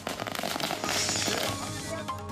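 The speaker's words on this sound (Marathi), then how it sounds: "कार्यकर्त्यांकडून फटाके फोडत हा जल्लोष करण्यात आला" Firecrackers burst in a dense, crackling string, loud pops running together at an outdoor political celebration by party workers in Maharashtra.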